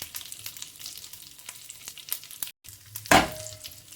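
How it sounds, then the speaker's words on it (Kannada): Mustard seeds, cumin, curry leaves and dried red chillies crackle and sizzle in hot oil close by, a steady frying hiss with a brief silence, then a sharp louder burst of spluttering as more goes in. "ಸ್ವಲ್ಪ ಒಗ್ಗರಣೆ ನೀಟಾಗಿ ಬಾಡಿಸ್ಕೊಳ್ಳಿ"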